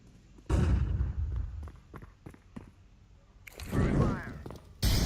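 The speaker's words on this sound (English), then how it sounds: "Throwing the flashbang." Flashbang grenade in Counter-Strike 2, with a sharp bang near the start followed by scattered thumps and clicks, then another loud burst and a final blast at the end.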